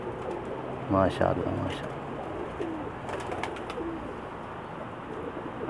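Dub pigeons kept by Pakistani fanciers cooing softly in a loft, low murmuring calls under a voice speaking briefly, with light background chatter.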